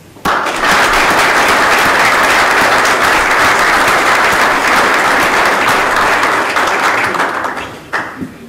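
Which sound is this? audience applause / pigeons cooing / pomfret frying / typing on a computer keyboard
audience applause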